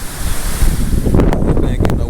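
Strong outdoor wind at a shop build site buffets the microphone with loud, low rumbling gusts. A voice and some other noises cut in toward the end.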